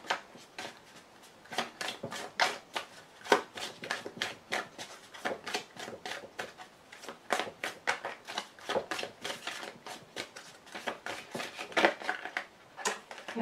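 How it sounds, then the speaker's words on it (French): Tarot cards are handled and cut, then one card is drawn, giving a run of dense, close papery flicks and riffling snaps that come in quick uneven bursts across the whole stretch, with no talking. "Je coupe et donc il me faut juste une carte."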